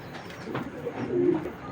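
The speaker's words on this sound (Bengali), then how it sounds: "দুইটা বাচ্চা পাড়াটা কিন্তু এখনই হালকা হালকা ডাকে" Two young red checker racing pigeon chicks coo softly nearby, low gentle murmuring calls over faint background noise.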